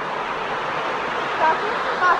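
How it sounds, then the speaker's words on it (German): A waterfall along Lake Lucerne gives off a steady, dense rush of falling water, constant and fairly close, with a voice speaking briefly over it. "Das ist ein Wasserfall."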